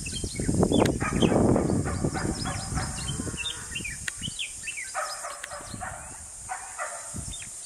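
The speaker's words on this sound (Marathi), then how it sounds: "पुन्हा इथे दुसरा बुलबुल एकटाच ओरडताना आपल्याला दिसतोय." A red-whiskered bulbul calls from a tree in the Konkan countryside, its short, bright whistled notes repeating in clusters over a backdrop of steady insect hiss and scattered low rustling.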